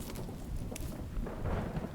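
Thunderstorm in The Infected survival game, a steady rumbling rain-and-thunder wash filling the low end with a brief crackle, continuous and fairly even in level.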